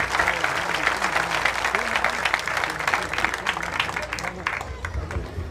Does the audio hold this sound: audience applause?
yes